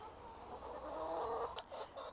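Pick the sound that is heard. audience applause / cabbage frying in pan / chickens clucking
chickens clucking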